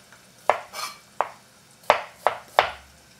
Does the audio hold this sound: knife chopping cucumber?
yes